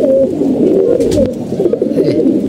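Several pigeons coo continuously in a close, loud chorus of low throaty calls from birds kept in a home loft during the rainy season, with no talking over them.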